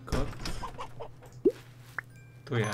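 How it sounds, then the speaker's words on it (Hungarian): Chickens cluck in the farming video game Big Farm Story, with a few short clucks and chirps scattered over soft background sound, ending in a louder burst. "Tyúkokat."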